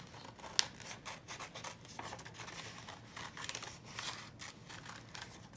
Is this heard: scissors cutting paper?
yes